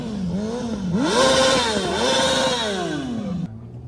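A motorcycle engine revs up sharply twice, the pitch sweeping up and falling back in loud, rasping bursts before settling to a lower idle, with no voices over it.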